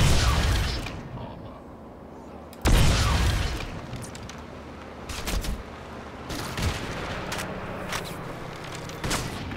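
Gatling gun fire in the Crysis video game: sharp bursts of rapid shots and booms erupt at intervals over a low rumbling background, some close and loud, others fainter between.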